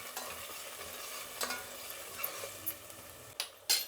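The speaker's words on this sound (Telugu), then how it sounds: "మసాలా బాగా వేయించాలండి, ఎందుకంటే మనం అంతా పచ్చి పచ్చిదే వేసాం కదా" Ground masala paste frying in a pan for mutton curry while being stirred: a quiet, even sizzle broken by short scraping strokes and a couple of louder knocks near the end.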